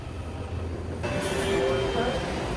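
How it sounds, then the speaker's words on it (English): A Washington DC metro train rides along with a loud, steady low rumble, and a faint whine rises partway through under the continuous wheel and car noise. "we decided to get off the metro at Greensboro Station"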